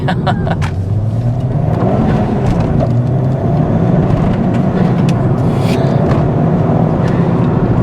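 A 300hp Ford Fiesta ST accelerating hard, heard from inside the car as a steady, loud engine drone whose pitch climbs, with road rumble and wind noise underneath.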